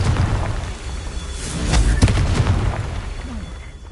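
Confringo spell blasts in the video game Hogwarts Legacy during the Merlin Trials: booming fiery explosions with a burst of thuds in the middle, loud and close.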